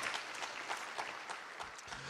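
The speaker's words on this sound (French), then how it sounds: "Vous pouvez applaudir le Seigneur." A church congregation claps together in steady, dense applause, moderately loud and continuous throughout, with no one speaking over it.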